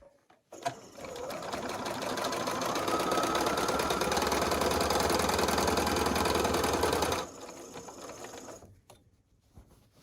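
Close, steady, rapid stitching of a sewing machine running a quilt seam for about six seconds, starting and stopping abruptly with quiet handling before and after.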